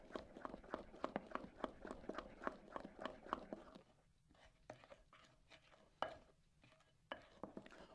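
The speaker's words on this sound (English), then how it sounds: "This you want to stir it hard and get as many lumps out as possible." A spoon beats pie batter hard to work out the lumps, giving a quick, even run of soft taps and scrapes against the bowl that slows into scattered knocks.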